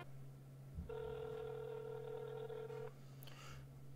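A phone call being placed to a mom: a steady low hum runs throughout while a bright multi-tone ringback tone sounds for about two seconds mid-clip, followed by a couple of short higher electronic beeps, with no talk.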